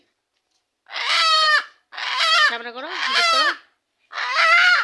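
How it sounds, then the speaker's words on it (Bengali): Loud, harsh honking calls from a native (desi) chicken in several bursts with short pauses between, close by, with a brief spoken exclamation in the middle. "এই যে দেশি মুরগিটা নিয়ে যাচ্ছে"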